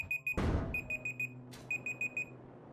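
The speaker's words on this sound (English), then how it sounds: "Oh, there's my timer going." Timer alarm in Space Engineers, a rapid repeating high electronic beep in short bursts, interrupted by a loud thud and a brief whoosh before the beeping resumes.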